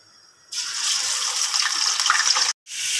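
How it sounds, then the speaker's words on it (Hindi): Beef pieces dropped into hot oil in a karahi set off a sudden loud, steady sizzling hiss. It lasts about two seconds, cuts out briefly, then resumes. "मैंने ये देखें ऑयल गर्म किया कढ़ाई में। अब इसमें जो मैं बोटियाँ डाल देती हूँ"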